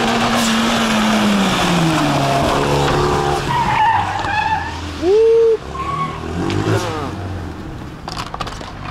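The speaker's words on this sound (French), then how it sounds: "on est en train de faire des essais parce qu'ils vont peut-être mettre des enveloppes Easy Drift" Loud, continuous car engine roaring with long screeching tire squeals as a car drifts on test Easy Drift tire sleeves, the skids rising and sliding in pitch across the whole stretch.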